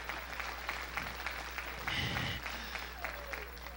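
Church congregation clapping during a Sunday evening service, a patter of scattered claps with a fuller burst midway, fairly faint over a low steady hum.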